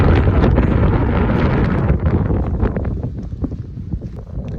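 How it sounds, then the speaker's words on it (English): Strong wind buffets the microphone on a Sierra mountain trail along the Pacific Crest Trail, a loud continuous roaring rush with gusty swells that eases slightly toward the end, no voices present. "There's plenty of wind around here as it is."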